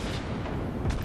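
A single muffled launch thump from a ship firing in World of Warships Blitz, a short dull burst with a low boom near the end.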